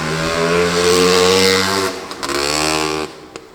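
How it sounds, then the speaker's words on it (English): A 1976 Honda MR250 motorcycle warming up, its engine revving loud and close in a rising, sustained blat, then dropping back briefly before revving again and cutting off near the end. "there's Senior on the MR250, ripping her around, warming her up"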